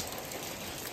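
Rain falls outside as a steady, soft hiss of drops on surfaces, faint and even throughout a brief moment.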